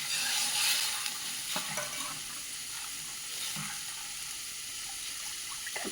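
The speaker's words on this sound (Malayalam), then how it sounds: "കട്ട കെട്ടാതെ വേണം ഇളക്കാൻ." Rice flour batter mixed with buttermilk and salt is stirred by hand, with soft, faint wet swishing and light scraping at a quiet, even level.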